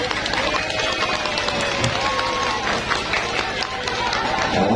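Audience applause at a shalawat performance by the Al Habsyi At Taufiq group in Pamekasan: steady, dense clapping that runs the whole time, with crowd voices mixed in.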